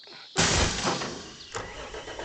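A tractor engine in the Farming Simulator 25 video game cranks and catches with a sudden loud burst. It settles into a rough, steady idle, with a brief clunk near the end.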